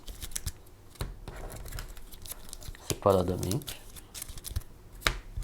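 Objective cards for the Beez board game being shuffled, soft papery riffles and clicks up close, with a voice talking briefly in Portuguese.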